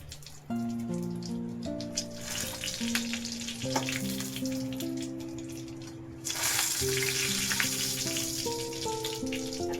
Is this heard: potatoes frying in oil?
yes